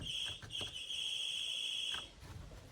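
A steady high electronic doorbell tone holds for about a second and a half, briefly broken near the start, then stops, leaving quiet room noise.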